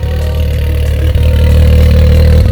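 A custom 2020 Can-Am X3 RC side-by-side engine warms up in quiet mode, a loud, steady idle with a deep rumbling drone that rises slightly halfway through.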